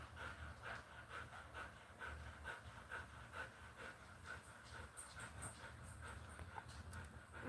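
A dog pants steadily and rapidly up close indoors, a continuous rhythmic breathy huffing with occasional faint whimpers, with no talking.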